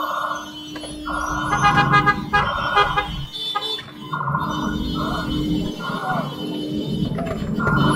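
A Grab driver's car horn honks repeatedly in congested traffic, a series of steady, loud blasts with short gaps between them, over rumbling engine and road noise, while someone talks.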